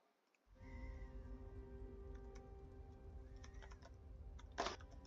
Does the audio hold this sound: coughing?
no